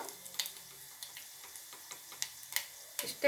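Four crushed garlic cloves fry in a pan for tambuli, giving a quiet, close sizzle broken by scattered soft pops and crackles.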